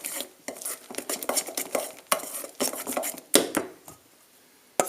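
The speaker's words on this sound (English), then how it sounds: "take a spoonful first and really beat it in" A spoon beats whisked egg whites into a thick banana and bran batter in a bowl. Quick, irregular clacks and wet scraping come in rapid bursts, close and fairly loud, and a final sharp tap follows after a short pause.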